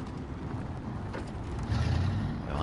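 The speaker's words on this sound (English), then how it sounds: "Very low engine noise." A truck engine idles low and quiet at night in the SnowRunner driving game, a soft steady rumble that swells slightly louder toward the end, with no talking.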